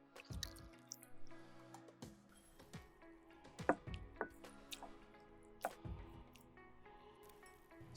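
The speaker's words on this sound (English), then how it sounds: "Squeeze firmly to extract the liquid." Salted shiso leaves squeezed firmly by hand during umeboshi pickled plum making, giving wet dripping and squishing sounds as liquid is pressed out, with intermittent close drips and squelches, no talking.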